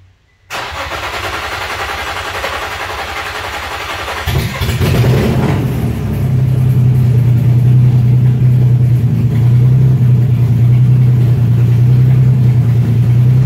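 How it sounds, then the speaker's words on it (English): A car engine, a budget-restored Infiniti G35 coupe with open exhaust headers, cranks for several seconds, then catches and settles into a loud, deep, rumbling idle, very close and raw. "It's open headers, so it's going to be loud as hell, but hopefully it starts."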